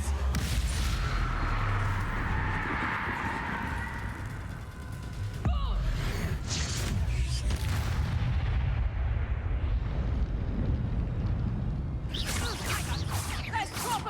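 Confringo spell blasts in the Hogwarts Legacy video game: several booming, crackling explosive hits with mechanical clatter and a sharp final burst, loud and close.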